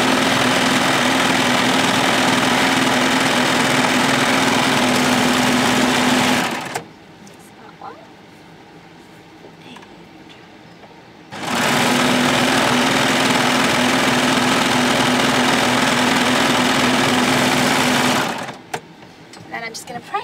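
An overlocker sewing machine runs in two long, steady whirring bursts as it neatens and trims the fabric seam edges of a skirt, with a quiet pause between the runs.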